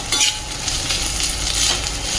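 Samosa filling for Kolkata-style singara sizzles steadily in a hot pan as roasted cumin powder goes in and gets stirred, a close, continuous frying hiss with soft scraping throughout.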